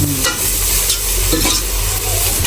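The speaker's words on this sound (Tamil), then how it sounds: "மசாலா தூள்லாம் போட்டு மறுபடியும் வதக்கும்" Food sautéing with masala powder in a hot pan, loud close sizzling and frying with steady stirring and scraping of a spatula, no talk.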